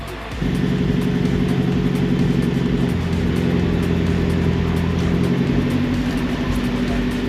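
Nissan S13 engine idling steadily in gear with the rear wheels spinning while the car is held in place, a constant loud drone with a slight rise partway through; no talk.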